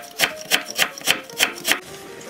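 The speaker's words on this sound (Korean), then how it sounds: "무는 한 3cm 정도만 채를 썰어주세요." A knife julienning radish into thin strips on a board gives six crisp, evenly spaced chops in a steady rhythm, close and clear with no speech.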